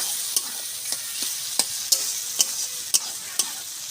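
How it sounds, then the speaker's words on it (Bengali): Orange segments fry with tomato in a hot pan for chutney, a continuous sizzle broken by about eight evenly spaced scraping strokes of a spoon stirring, close and clear with no voices. "লেবুটা দিয়ে আমি একটুখানি এরকমভাবে ভেজে গলিয়ে নিয়েছি।"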